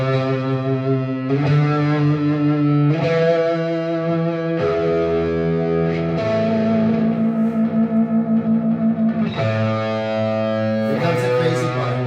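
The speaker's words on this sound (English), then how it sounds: "we got a very typical guitar part coming in right at the top of the chorus" Distorted electric guitar playing a chorus part in a rock production alongside bass, sustained chords changing every second or two with effects and reverb, loud and upfront with no talking.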